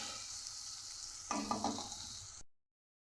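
Onions fry in a pan with a steady sizzle, then a spoon stirs and scrapes through them in a short burst before the sound cuts off abruptly; no talking.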